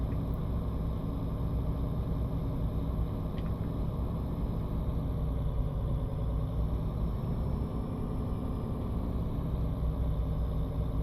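Simulated 1980s Volvo F10 truck engine in Euro Truck Simulator 2, hauling a heavy load downhill with retarder use, giving a steady low rumbling drone that runs continuously and evenly throughout.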